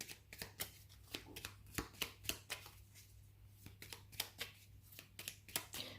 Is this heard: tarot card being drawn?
yes